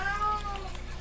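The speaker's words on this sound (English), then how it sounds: "Alright, sorry about the cat." A house cat in the room lets out a short, fairly faint meow near the start, over steady low background hum.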